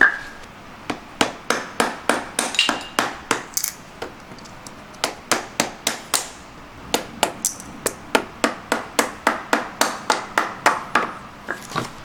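A carpenter's mallet strikes wood indoors in an apartment, dozens of sharp, evenly spaced knocks in steady bursts with brief pauses between runs, close and fairly loud, some blows harder than others.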